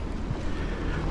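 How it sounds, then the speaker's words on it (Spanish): Steady rain driven by gusting wind fills the air with a continuous, dense rushing hiss, loud and even throughout, with no voices. "Sigue la lluvia."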